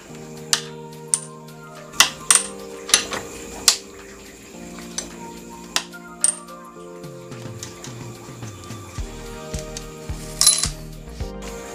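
Socket wrench working loose a bolt on a Honda Vario 150 scooter engine, giving a series of sharp metallic clicks and clinks at irregular intervals over a faint background hum.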